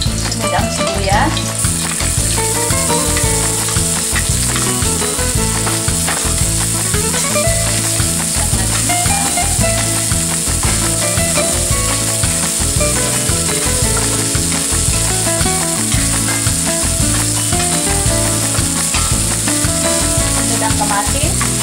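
Garlic and onions sizzle loudly in a pan as bopis is cooked, a steady crackling fry with rhythmic scraping and clicking of stirring throughout and no talk.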